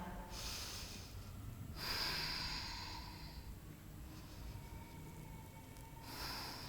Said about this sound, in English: And take 2 more breaths here.